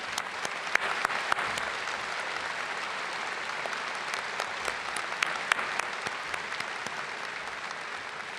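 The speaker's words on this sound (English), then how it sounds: "So everybody, please give a round of applause for the families of those who serve." Steady, dense audience applause at a Penn State Smeal College of Business commencement ceremony, honouring families of service members, a large crowd clapping evenly throughout with scattered sharper claps on top.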